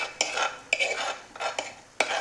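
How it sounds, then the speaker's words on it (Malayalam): Cooked potato and drumstick pieces stirred in a pan, with a series of sharp utensil scrapes and clinks against the metal at irregular intervals, close and fairly loud, with no voices. "ഇതെല്ലാം നന്നായി ഒന്ന് നമുക്ക് മിക്സ് ചെയ്തെടുക്കാം"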